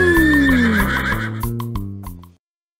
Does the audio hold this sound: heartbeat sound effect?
no